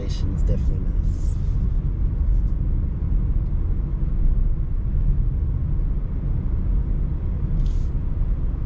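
A 2021 sedan, either a BMW 330i or a Lexus IS350 F Sport, accelerating from the cabin as a steady low engine rumble that stays loud and even throughout.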